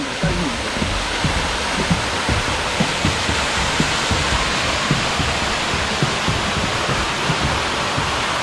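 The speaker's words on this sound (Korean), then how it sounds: "폭포가 눈앞에 펼쳐졌어요." Yongchu waterfall on Sarangsan mountain in Goesan, a deep summer valley pool, roars as a steady, loud, unbroken rush of falling water close by, with no voices over it.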